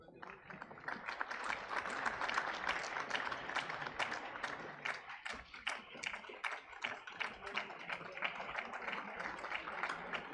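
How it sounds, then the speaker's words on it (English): A crowd at a regional conference for labor-based practitioners claps continuously for a winner, with individual hand claps clearly audible as a rapid, uneven patter throughout. "That's the round of applause for the winner of the next organizer"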